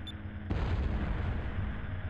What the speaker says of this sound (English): There was an explosion off the port bow.